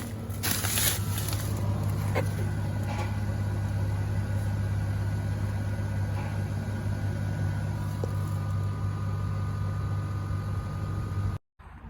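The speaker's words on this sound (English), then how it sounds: "You can already hear it. The compressor's going." The air suspension compressor on a 2022-or-later third-generation Toyota Tundra with factory airbags runs as a steady, droning mechanical hum. The hum holds constant at close range for several seconds and then cuts out briefly near the end.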